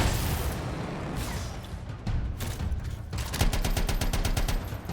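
Gunfire in the video game Anthem comes as dense, sustained volleys, with rapid repeated shots dominating the last two seconds, loud and close throughout.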